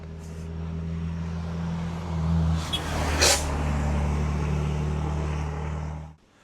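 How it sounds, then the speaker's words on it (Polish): A truck on a busy road with no houses nearby passes close by, its engine hum building from a distance, peaking with a rush of air around the middle, then holding before cutting off. "A to ciężarówka to mi się nie zatrzyma."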